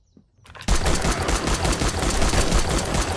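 Rapid automatic gunfire in the video game 7 Days To Die, a loud sustained burst of shots starting abruptly after a short quiet lead-in and continuing without pause.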